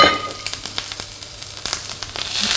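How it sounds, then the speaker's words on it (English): About a teaspoon of fresh turmeric sautéing briefly in a little olive oil for tofu scramble, a short close sizzle with light crackles and a few quick spatula ticks. "I'm going to quickly just saute off some fresh turmeric"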